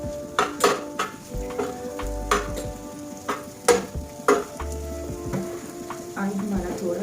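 Bhujiya frying in oil over a raised flame, with repeated spoon scrapes and clinks against the pan over a soft sizzle, heard up close without talk.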